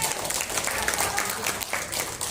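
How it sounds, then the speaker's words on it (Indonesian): An audience at a health workshop bursts into dense, steady applause that fills the whole moment, with voices faintly mixed in beneath the clapping. "Tepuk tangan dong buat beliau."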